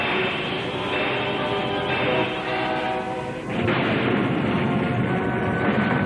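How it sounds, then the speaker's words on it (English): Artillery barrage firing in a Thunderbirds 2086 episode: a dense, continuous roar of bombardment with a sharp surge just past the midpoint, loud and sustained with no talk over it. "Second barrage firing."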